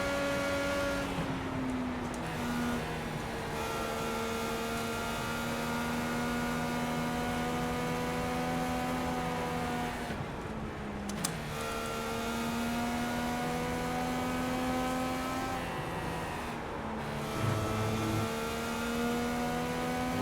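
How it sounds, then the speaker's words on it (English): A high-revving Indy car engine in a racing video game at Le Mans, holding a loud sustained whine that rises through the gears with brief drops at each shift, continuous for about twenty seconds. "No, we're in Indy cars today."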